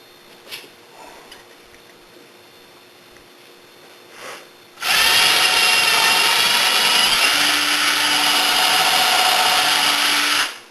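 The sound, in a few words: power drill drilling holes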